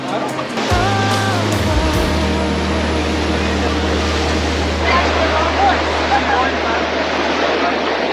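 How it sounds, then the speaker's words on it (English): On a windy Georgian Bay shore, waves crash against rocks in a steady, loud roar, heavily buffeted by wind, with a low rumble underneath throughout. "the waves crash into the rocks uncontrollably if you're not careful"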